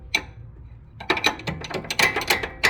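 A wrench clicks and ratchets on the front suspension of a 2008–2012 Honda Accord 2.4L, one lone tick and then a rapid cluster of metallic clicks, close by.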